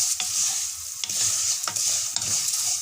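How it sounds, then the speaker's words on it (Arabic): Vermicelli frying in hot oil alongside onion for one-pot koshari, a dense steady sizzle with a few sharp stirring scrapes, close and loud with no talking. "هنا بقى هنحمر الشعريه كده لحد ما تاخد لون كده وردي جميل معانا"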